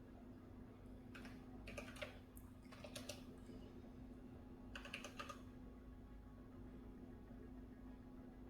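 Bursts of computer keyboard typing during an Elite Dangerous play session, several short clusters of clicks over a steady low hum, fairly faint and without talk.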